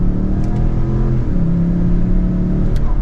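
A 2024 Lincoln Navigator with a twin turbo V6 accelerates in second gear, its engine drone rising steadily in pitch from inside the cabin, loud and continuous with turbo whir and no talking.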